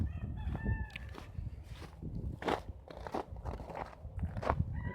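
A rooster crows once at the start, followed by scattered crunching footsteps and rustling close by, with birds clucking faintly in the background.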